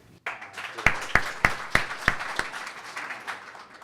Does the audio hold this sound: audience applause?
yes